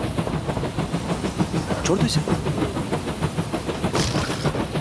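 A train rumbles steadily along the rails with a rhythmic clatter and occasional hiss, heard up close while a person speaks briefly over it.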